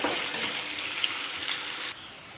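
Sliced onions sautéing with salt in a pan for a squid roast, a steady close sizzle with faint scraping that cuts off abruptly near the end.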